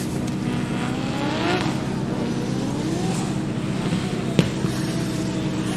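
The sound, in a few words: Nissan S15 drift car with 2JZ engine, turbo sounds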